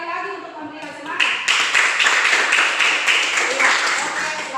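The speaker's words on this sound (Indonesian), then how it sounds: "Tepuk tangan sekali lagi untuk memberikan semangat." Seventh-grade students in a classroom break into loud, dense hand clapping after a short spoken lead-in. The clapping keeps going for several seconds with voices underneath.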